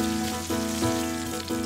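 Butter sizzling in a hot pan alongside steak, a steady dense frying hiss that holds close and loud throughout, with faint background tones beneath.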